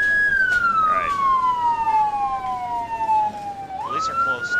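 An ambulance siren in the Emergency 4 game, West Falls Township modification, wails loud and close in one long falling sweep that then jumps back up to begin another rise.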